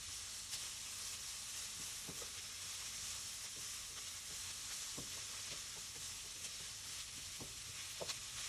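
Onions frying in a pan for pepper steak, a continuous quiet hiss of sizzling with scattered soft taps and scrapes, steady and unaccompanied by speech.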